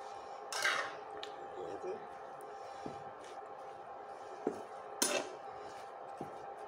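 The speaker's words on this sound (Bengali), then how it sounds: "নেড়ে দিচ্ছি" Spatula stirring hilsa fish and gourd leaves in a metal pan, a few sharp scrapes and clinks against the pan over a faint sizzle, with a quiet voice at times.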